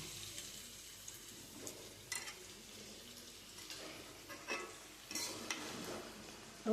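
Rice and vegetables being stirred in a pan over a low sizzle, with soft, irregular scraping strokes and faint clinks of a utensil, quiet and close, no voices.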